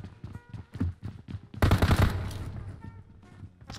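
Rapid burst of automatic gunfire in PUBG Mobile, a loud dense volley that breaks in after a stretch of softer tapping and thuds and then trails into a rumbling decay.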